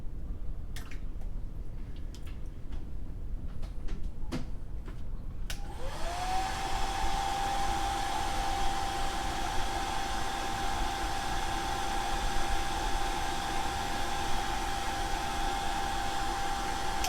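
A hair dryer switches on after a few seconds of quiet room noise with faint clicks, then runs steadily as a loud, close, even whoosh with a constant whine to the end.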